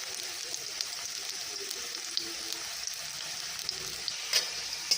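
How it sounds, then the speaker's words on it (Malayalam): Jackfruit bulbs frying in hot oil for chakka chips give a steady, close crackling sizzle with small pops scattered through it and no voices. "ചക്കച്ചുള വാരിയിട്ടു ഇനി അത് മൂത്ത് വരട്ടെ"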